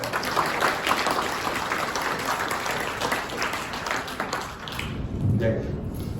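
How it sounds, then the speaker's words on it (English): Sustained audience applause for library staff at a live event, a dense wash of many hands clapping with crowd noise that holds steady for several seconds before dipping and swelling again near the end. "how about a nice round of applause for the library staff?"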